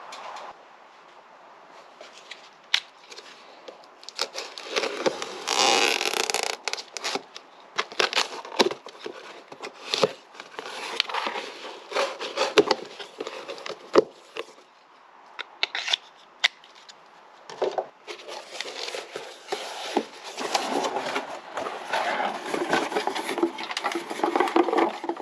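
A shipping package holding a K-Tech Razor-R Lite EVO shock being opened up close: cardboard tearing, plastic crinkling and sharp snips or rips in irregular bursts with quiet pauses between, no talking.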